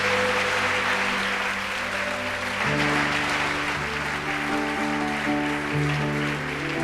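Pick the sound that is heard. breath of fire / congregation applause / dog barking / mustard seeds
congregation applause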